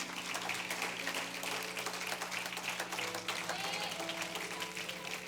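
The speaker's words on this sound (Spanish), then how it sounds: "Denle un aplauso al Señor," A church congregation claps for the Lord at a service, a steady, even roar of applause with music or sustained tones underneath and a few voices mixed in.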